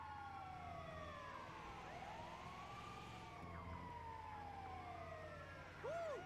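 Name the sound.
ambulance siren in video game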